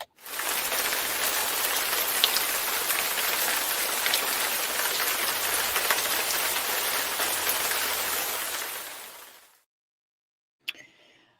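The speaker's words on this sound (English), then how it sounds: "It's raining like crazy." Heavy rain pours outside in a dense, steady hiss of countless drops striking surfaces, loud and unbroken for about nine seconds before fading out abruptly, followed by a brief faint knock.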